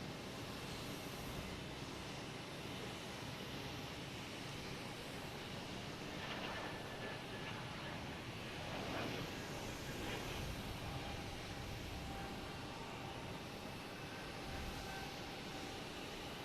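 A JetBlue jet takes off at Boston Logan Airport, heard as a faint, distant broadband engine roar that holds steady throughout with a slight swell near the middle.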